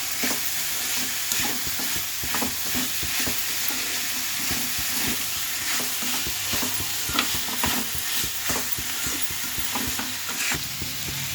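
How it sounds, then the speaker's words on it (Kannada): Boiled bitter gourd pieces sizzle and fry steadily in a hot pan, with repeated scraping and stirring strokes of a ladle against the metal running throughout. "ಇವಾಗ ಬೇಯಿಸಿರೋ ಅಂಥ ಹಾಗಲಕಾಯಿನ ಹಾಕೋಣ."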